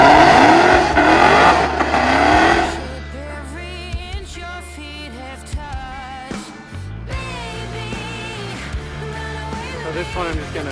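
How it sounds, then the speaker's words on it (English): A Dodge Charger drag car screams down the Texas Motorplex strip, a loud engine roar that fades after launch into distant engine noise with scattered crackles and a second car's drone. "we have a Charger going up right now"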